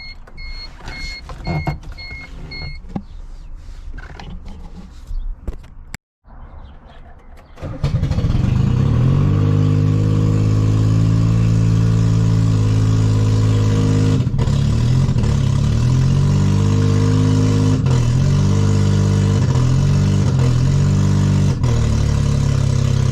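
A car engine, its exhaust disconnected after the catalytic converter, cranks and catches, then runs loud and rough with a raw, blatting roar that holds steady for many seconds.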